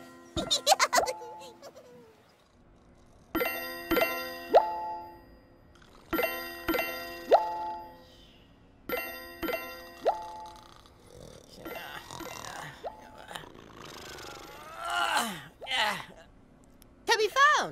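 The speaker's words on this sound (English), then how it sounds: "Then Laa-Laa heard a ringing sound. Ooh. It was the tubby phone." The Teletubbies' tubby phone rings in short, bright, bell-like bursts that repeat several times with pauses between them. Excited character voices follow toward the end.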